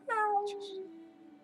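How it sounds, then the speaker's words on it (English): A cat meow from the video game Reigns, a single close, clear drawn-out mew with a falling pitch, followed by a soft breathy tail and faint background hum. "The nuns keep meowing for ages."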